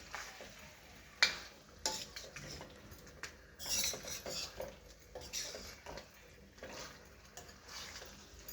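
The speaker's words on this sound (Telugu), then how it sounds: "ఉప్పు వేసుకున్నాక బాగా మిక్స్ చేసుకోవాలన్నమాట" Salted broiler chicken is mixed in a pan, with intermittent clanks and scrapes of a utensil against the metal and faint frying underneath, fairly quiet and irregular, no talking.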